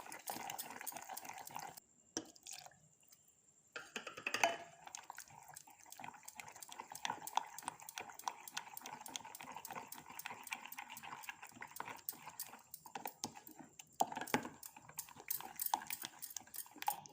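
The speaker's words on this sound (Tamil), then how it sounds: "தண்ணி கொஞ்சம் கொஞ்சமாக சேர்த்து மிக்ஸ் பண்ணிக்கோங்க." Rava dosa batter is mixed with water in a bowl, giving a long run of quick, close, irregular clicking and tapping strokes at a low level, with a brief pause early on and no talk.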